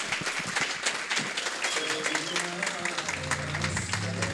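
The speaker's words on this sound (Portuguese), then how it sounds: "Salva de palmas." Audience applause at a stage event with a motivational speaker, steady dense clapping throughout with crowd noise and some music-like tones and voices rising underneath toward the end.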